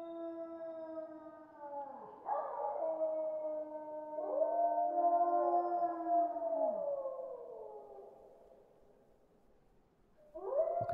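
Dogs howling in the STALKER video game, long wavering howls rising and falling and overlapping, a second wave joining partway and another starting at the end, fairly distant and without speech.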